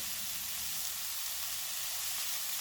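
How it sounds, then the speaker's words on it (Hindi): Boiled, shredded chicken with crushed red and black pepper fries in a pan, producing a steady, loud, even sizzle that fills the whole moment with no talking. "इनको भी 2 से 3 मिनट तक भूनेंगे।"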